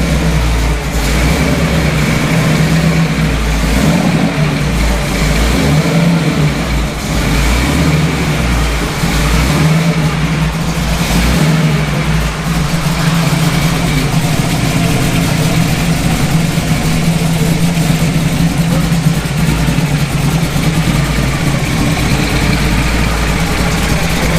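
A heavily modified car engine runs loud and close, with a deep, rough idle that swells into repeated revs and falls back, continuous throughout with no speech over it.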